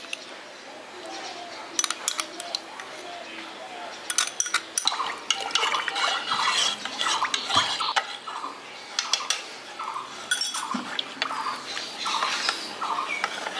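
Yogurt starter being mixed into lukewarm milk for misti doi, heard as soft, irregular clinks, scrapes and liquid swishes from a spoon against a bowl, close and fairly quiet, with a few sharper taps along the way.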